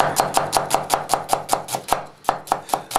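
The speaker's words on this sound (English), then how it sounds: "let's start chopping up the ingredients" A knife chops potatoes and onions thinly, rapidly and evenly on a board, about fifteen sharp strikes with a short pause midway.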